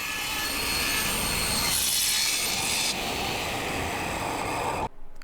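Walnut wood being cut with a power saw, a loud continuous rasping whine that holds steady for about five seconds before cutting off abruptly, with no voices.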